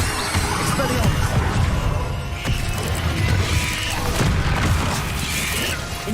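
Expelliarmus disarming spell cast in the Hogwarts Legacy video game, with dense crashing, booming impacts and mechanical clatter piling up over roughly six seconds of busy combat, a voice talking over it.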